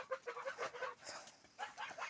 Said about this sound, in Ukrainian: Гуси мої гуси. Тікайте.